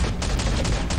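Rapid pistol shots in the video game Shadowgun Legends, four or five quick cracks in about a second.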